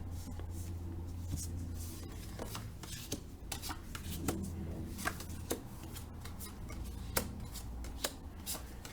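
Tarot card decks being shuffled, a steady stream of riffling and sliding card noise with sharp snaps and flicks, close and fairly quiet over a low steady hum.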